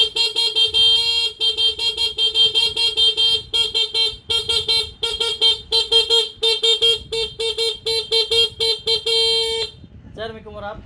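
A Suzuki Smash 115 motorcycle horn honks repeatedly in loud, close bursts of varying length, then stops; brief talk follows near the end.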